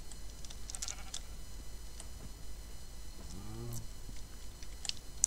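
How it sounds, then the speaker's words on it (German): A single sheep in the Minecraft Pixelmon video game gives one short wavering bleat midway, heard alone over a steady background hiss with a few faint clicks. "Schaf."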